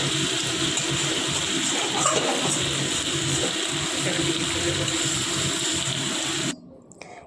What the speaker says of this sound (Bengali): এরপরের মধ্যে আমি জল ঢাললাম